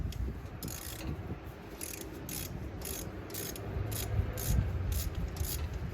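A ratchet wrench clicks in a steady run of short, sharp ratcheting bursts while tightening a spark plug, close up over a low background rumble, with no talking.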